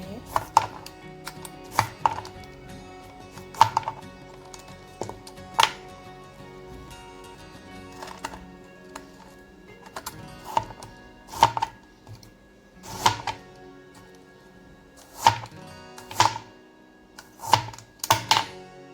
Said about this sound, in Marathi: आता मी ॲपलचे छोटे छोटे तुकडे करून घेणार